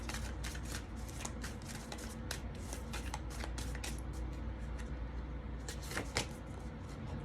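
A deck of oracle cards is shuffled by hand, a steady close riffling and rustling of card stock that carries on without pause, with no voices.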